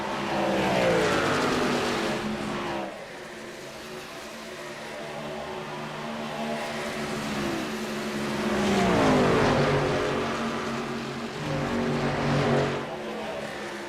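Race truck engines roaring at a Las Vegas truck series race, steady revving drone that swells and fades as trucks accelerate past, with rising pitch sweeps, no talk over it.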